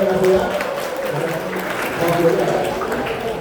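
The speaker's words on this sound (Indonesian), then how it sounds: "Tepuk tangan yang mulia dong, Bu Leoni Arfia" Applause from a seminar audience for a business presenter, scattered clapping running under ongoing talk and a PA voice throughout.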